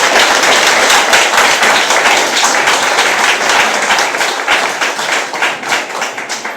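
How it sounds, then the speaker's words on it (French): A large audience of dockers claps steadily and loudly at a union congress at the autonomous port of Lomé. The dense, continuous applause fades slightly toward the end. "je vous demanderai de vous applaudir vous-même"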